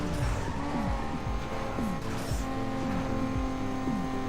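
Toyota Supra in a racing video game, engine droning steadily with repeated sharp tire squeals and rising gear shifts throughout, loud and continuous with no talk.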